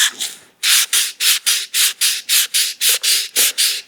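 A bicycle seat post is sanded by hand with 400-grit sandpaper in about a dozen even, rhythmic strokes, each a close, loud, gritty scrape, with no talking over it.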